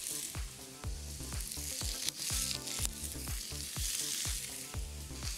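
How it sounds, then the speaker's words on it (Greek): Potatoes fry in a little olive oil in a non-stick pan, a bright sizzle broken by repeated clacks of a utensil stirring them in a fairly regular rhythm, close up and without talk. "Οπότε, ανακατεύουμε τις πατάτες"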